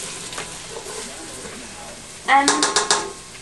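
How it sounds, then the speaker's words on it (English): Ginger and garlic sizzle quietly in a pan, then a burst of scraping stir strokes comes near the end as a voice speaks briefly. "You're gonna want to make sure that you're mixing it often so that it doesn't burn or stick to the"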